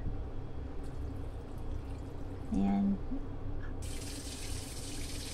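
Water runs and pours steadily into a cooking pot holding pork adobo ingredients and pepper, a brief word spoken partway through over the flow.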